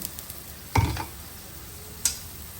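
Food frying in oil in a pan for a children's lunch-box recipe, oil added around the edges and on top: a soft, steady sizzle with two brief, sharp clinks of a utensil against the pan.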